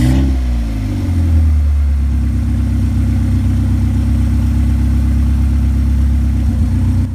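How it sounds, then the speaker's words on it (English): A car engine running on a lawnmower carburetor fitted with a 3D printed PLA intake adapter, idling steadily and loudly up close with a deep, even drone and a brief rev at the start. "the car runs pretty damn good"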